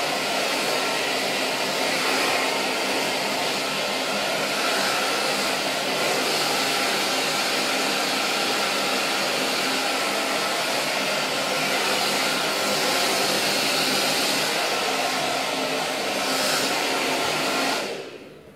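A Babyliss Senseor digital hair dryer blows steadily on hair, a loud, continuous airy roar held close for well over fifteen seconds with slight fluctuations in pitch, then cut off abruptly at the end.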